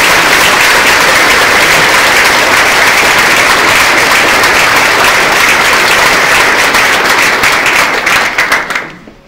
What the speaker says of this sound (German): Bitte ein großes Applaus.